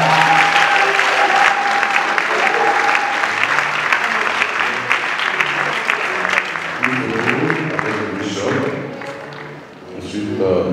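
A church congregation breaks into loud, sustained applause that gradually thins and tapers off toward the end, with voices mixed into the clapping.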